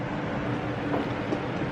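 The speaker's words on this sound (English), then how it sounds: "So that was the train passing by." A train passing by near Montreux, heard as a continuous broadband rumbling roar that stays loud and steady throughout, with no speech over it.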